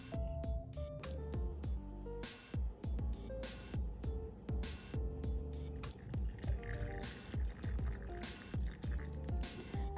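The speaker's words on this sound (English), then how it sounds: "I have a lot of brine left in here, so I'm gonna actually take this and put it in a jar" Leftover pepper pickling brine poured into a jar for canning, with sloshing liquid, drips and glassy clinks from handling the jar, moderately close and steady with no talk.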